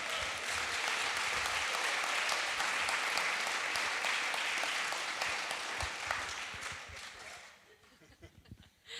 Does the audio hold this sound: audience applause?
yes